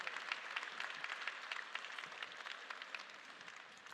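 An audience applauds at a political speech in Poland, with steady, dense clapping spread evenly across the whole stretch at moderate, distant-sounding loudness and no talking over it.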